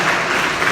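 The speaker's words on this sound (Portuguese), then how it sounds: "Dê uma salva de palmas para Jesus." Church congregation clapping for Jesus at a Portuguese-language service, a brief loud burst of dense applause, close and continuous, with no voices.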